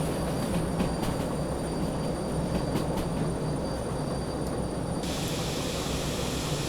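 Freight train braking in the Derail Valley simulation game: a continuous loud rumble of rolling wheels and wagons with rhythmic clunks over rail joints, high brake hiss and faint squeal up top, the hiss cutting out abruptly near the end.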